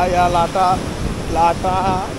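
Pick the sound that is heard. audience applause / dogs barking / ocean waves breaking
ocean waves breaking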